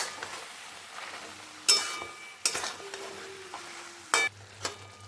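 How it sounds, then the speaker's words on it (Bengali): Chicken sautés in a pan with ginger, garlic and chili paste, sizzling steadily while a utensil stirs and clinks against the pot in several sharp scrapes. "এবার চিকেনটাকে খুব ভালো মতন কষিয়ে নেব।"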